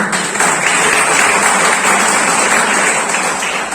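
Steady, dense applause from a university audience at an Engineer's Day event, loud and continuous for a few seconds with no voices over it.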